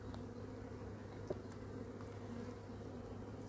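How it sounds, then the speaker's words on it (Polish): Bees hum in a dense, continuous drone close by, a steady low buzz with no talking. "Pszczoły siedzą."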